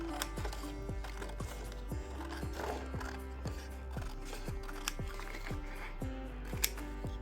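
Scissors snip through paper in a steady series of about a dozen crisp, close cuts at an even rhythm, each a short sharp click against a faint background hum.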